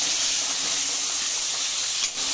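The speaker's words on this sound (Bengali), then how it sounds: "দিয়ে আমি মশলাটা ভালো করে কষাবো" A paste of ground ginger, garlic and green chilies frying in a hot pan gives a steady loud sizzling hiss that holds evenly throughout.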